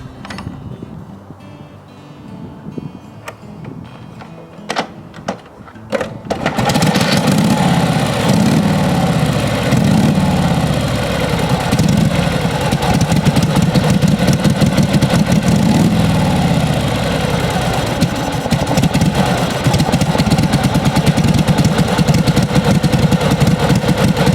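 A 1954 Harley-Davidson FL Panhead motorcycle is kicked over with a few clicks and knocks, then fires up and settles into a loud, steady, loping idle that runs close and unbroken for the rest of the time.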